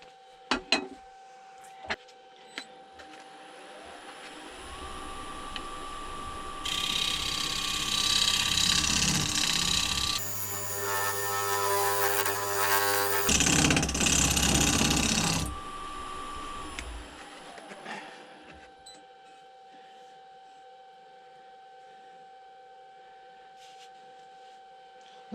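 A living edge wooden bowl turning on a lathe: a motor hum rises and holds while a cutting tool scrapes loudly for several seconds, then the rasp fades and the motor winds down.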